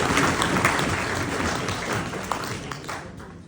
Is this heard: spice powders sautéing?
no